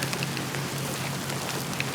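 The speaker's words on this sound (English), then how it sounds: "The hail and rain's coming back." Hail and rain fall steadily on surfaces at an abandoned mining ghost town, a dense continuous patter with occasional sharper impacts and no voices.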